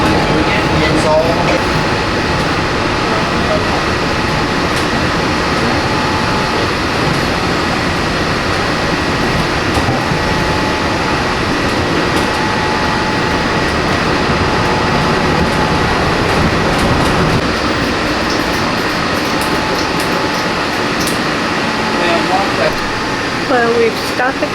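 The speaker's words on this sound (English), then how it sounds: "we've stopped at the Contemporary probably to allow another monorail to go by or something" Steady interior hum of a Disney monorail car stopped at the Contemporary station, a constant air-conditioning drone filling the cabin with faint rumble and occasional soft clicks, no speech.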